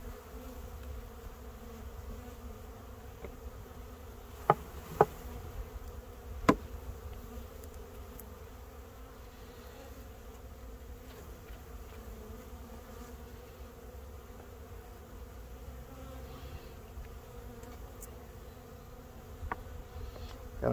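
A swarm of honey bees, roughly three to four pounds, drones continuously around a beekeeper working without a veil, a steady close buzz with a few sharp knocks early on.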